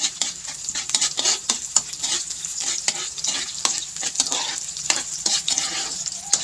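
Onion fries and is stirred in an old kawali pan used for twenty years, a close, loud continuous sizzle broken by frequent scraping and clinking strokes of the spatula.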